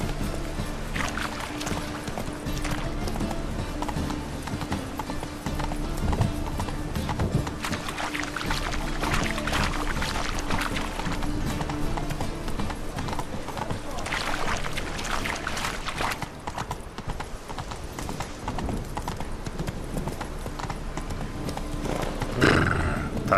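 Horse hooves clip-clop in a steady rhythm while riding in The Witcher 3, with rain falling and occasional whinnies mixed into the game sound.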